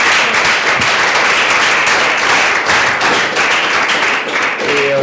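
A seminar audience in a hall applauds its two guests at the close of a session, a continuous, fairly loud patter of many hands clapping without a break.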